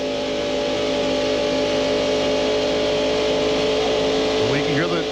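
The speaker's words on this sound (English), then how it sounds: "We can hear the engine in Musgrave's car as they run wide open." Stock race car engine droning at wide open throttle during the 1995 Pepsi 400, a loud steady roar with a constant pitch, while an announcer talks over it near the end.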